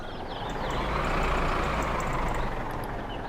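Low, steady engine drone of a tractor rolling slowly forward to nudge a parked car in My Summer Car, a continuous rumble that swells slightly and holds with faint beeps above it, no talking.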